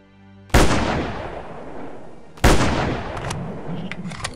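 Two loud sniper rifle shots from the video game Animallica, each a sharp crack with a long decaying tail, spaced about two seconds apart, followed by faint clicks.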